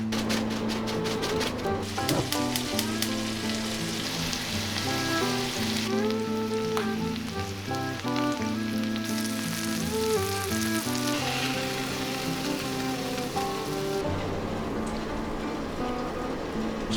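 Wild turkey meat from a Wyoming hunt frying in a pan, a dense, steady sizzle and crackle like light rain, close and continuous for the whole stretch, with no speech.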